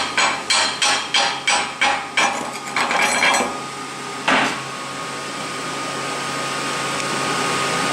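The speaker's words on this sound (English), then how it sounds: "Now chip the slag," A hammer chips slag off a fresh weld with about eight quick, sharp, evenly spaced metallic strikes up close, then a few scattered taps and a steady hum of shop noise.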